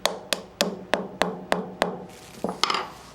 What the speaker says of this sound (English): I am going to use the Delrin part of my hammer just to push it in